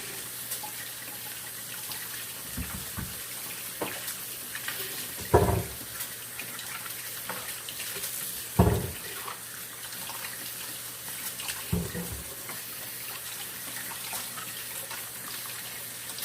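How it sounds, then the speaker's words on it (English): Apples are washed under a running kitchen tap before canning apple butter. A steady stream of water splashes throughout, broken by a few louder bumps and clunks of fruit being handled in the sink. "Let me get my apples washed and get set up"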